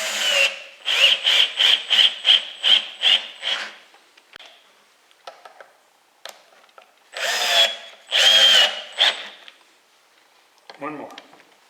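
A power drill drives screws into a wooden bowl blank being mounted for a lathe. It gives a series of about eight short, rhythmic whirring bursts, then a pause with small clicks, and two longer bursts near the end.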